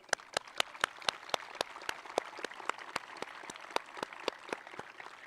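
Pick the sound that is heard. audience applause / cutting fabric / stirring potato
audience applause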